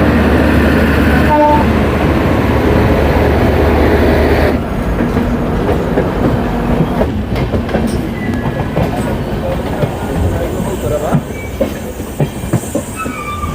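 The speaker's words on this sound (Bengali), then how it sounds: "18 মিনিট লেট করে মেদিনীপুর লোকাল ছেড়ে দিল" A Medinipur local train pulls away from platform 20 at Howrah station, a loud steady rumble that drops and shifts partway through into rattling wheel clatter with brief squeals and faint voices around.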